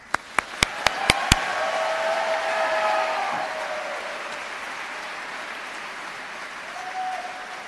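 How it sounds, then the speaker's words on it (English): Audience applause at a dental school white coat ceremony, a broad wash of clapping that swells after a few sharp early claps and then slowly fades, with a faint tone near the end. "Please join me in a round of applause for the students taking part in the white coat"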